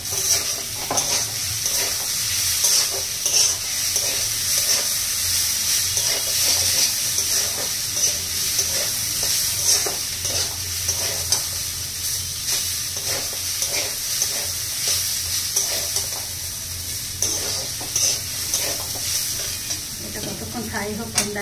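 White potatoes seasoned only with salt fry steadily in a pan, a continuous sizzle with repeated scraping stirs across the whole stretch, fairly loud and close, with faint running water in the background.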